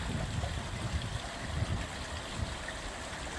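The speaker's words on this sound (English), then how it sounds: "Sound of running water." Running water near the Leeds and Liverpool Canal in Liverpool, a steady close rushing wash with low gurgling churn, continuous and loud with no voices.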